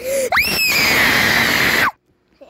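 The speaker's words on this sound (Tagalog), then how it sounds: "titingnan natin kung sino mas malakas na sigaw" A loud, sustained scream from close by, rising in pitch then holding for over a second before cutting off into near silence.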